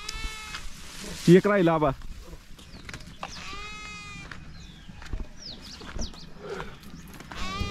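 A goat bleats several times in a rural village setting, the cries close and fairly loud, mixed with people talking nearby and other faint outdoor sounds.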